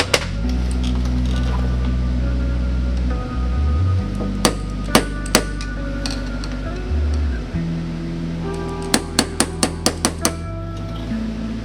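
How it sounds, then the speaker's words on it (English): An adjustable hammer strikes a 1980 Ski-doo Everest snowmobile chain case, with loud, sharp metallic blows in scattered singles and then a quick burst of about six hits, over a low steady rumble. "Adjustable hammer for the win"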